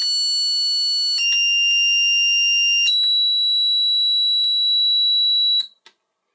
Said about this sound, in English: our buzzer circuit and the accompanying sketch seem to be working well